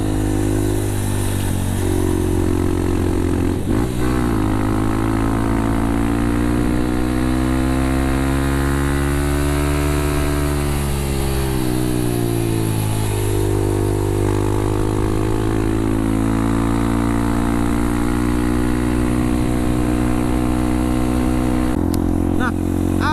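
Honda CRF 150L supermoto motorcycle accelerating hard on an empty mountain road, its single-cylinder engine revving up and down through the gears, loud and close, with wind noise and a rider talking over it.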